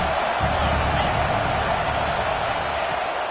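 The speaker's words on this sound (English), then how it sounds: "how nice is it to have the home crowd going absolutely bananas?" Home crowd at a football game roaring loudly and steadily throughout, a dense unbroken wall of cheering noise with no pauses.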